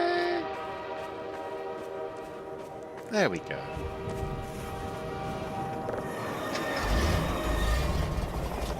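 A train rumbles past in Half-Life 2, with a steady rolling drone and a brief horn-like sweep partway through. Someone talks over it.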